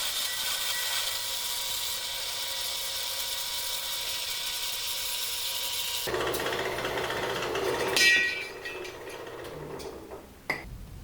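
Metal stock for a teardrop trailer being cut in fast-forward, a steady harsh rasping grind that shifts in tone partway through, ending with a short bright ding.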